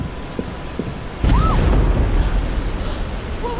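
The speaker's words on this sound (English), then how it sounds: "Did you hear that explosion?" A deep explosion booms as something strikes the ocean liner Lusitania in 1915, a sudden loud blast that rumbles on after a quieter lead-in, followed by a brief whistling tone.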